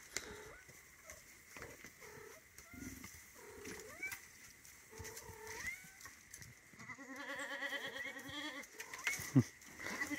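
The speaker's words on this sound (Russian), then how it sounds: "Бегом вот сразу к другим козам." Goats on a farm, joining their herd, give a few bleats that rise toward the end, mixed with scuffling and rustling nearby while a person talks.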